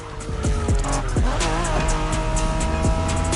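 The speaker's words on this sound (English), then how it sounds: "Are you familiar with the Honda you're driving?" Honda NSX from the 1990s racing in The Crew Motorfest, loud continuous engine with repeated rising revs and gear shifts, plus tire squeal and skidding, close and alone with no talk.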